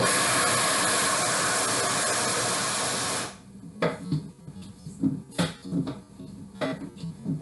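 A kitchen blender or food processor grinds nuts into nut butter with a loud steady whir, then cuts off and gives way to short intermittent pulses and thumps.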